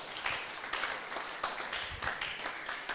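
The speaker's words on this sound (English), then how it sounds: "So a round of applause for a job well done again." Audience at a business talk giving a round of applause, scattered and fairly quiet clapping with uneven bursts and a few sharper claps standing out.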